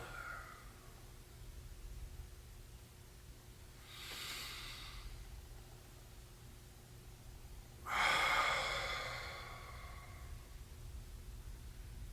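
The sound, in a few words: long deep breaths during jiujitsu warm-up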